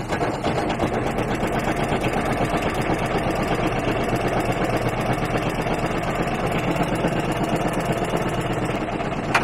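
An Aixam Mega Multitruck diesel engine idles with a steady, close mechanical chatter and low hum, unchanging throughout.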